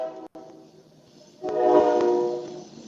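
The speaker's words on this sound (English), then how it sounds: "You're fixing to hear a train." A train rolling past close to a radio station, a steady low rumble that swells louder midway with a tonal horn-like drone, heard alone without talk.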